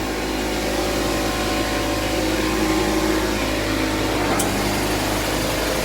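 An air compressor used for spray painting runs continuously while building pressure, a steady loud motor drone with a constant hum, no speech, and a brief hiss-like click near the end.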